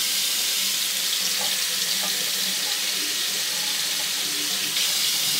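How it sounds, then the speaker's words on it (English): Hot water pours steadily from a bathroom tap into a sink before a shave with a Bic Twin Select disposable razor, a constant close hiss of running water with no talk. "time for some hot water"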